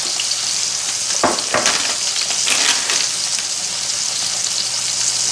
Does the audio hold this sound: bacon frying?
yes